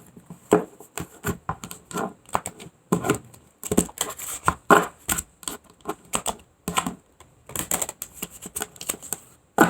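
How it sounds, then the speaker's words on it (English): A deck of tarot cards is shuffled and cut: bursts of papery riffling and soft slaps and taps come in uneven clusters with short pauses between, close by and without speech. "I'm going to cut and we're going to go for what's on the bottom of the deck."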